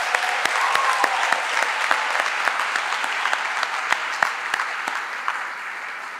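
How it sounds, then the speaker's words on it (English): A room at an introductory press conference breaks into a sustained round of applause, with dense clapping and a few sharper individual claps that ease off slightly toward the end. "Will you please join me in giving them a round of applause?"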